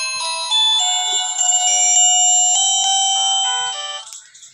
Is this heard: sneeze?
no